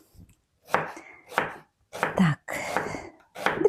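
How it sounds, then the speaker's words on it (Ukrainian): A knife chops an onion on a board in a series of sharp, close chopping strokes with short gaps between them. "подрібню цибульку"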